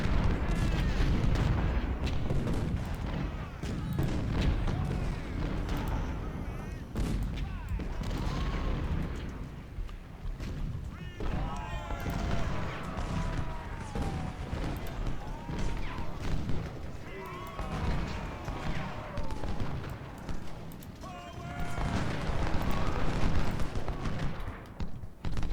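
Musket volleys and artillery fire from the Civil War strategy game Ultimate General: Civil War make continuous crackling gunfire with heavy booms throughout, while someone talks over the battle.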